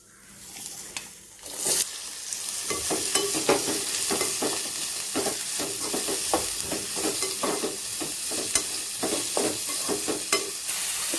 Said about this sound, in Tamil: ஓரளவுக்கு பொரிஞ்ச உடனே நம்ம வந்து பெரிய வெங்காயம், வரமிளகாய், கருவேப்பிலை ஆட் பண்ணிக்கலாம்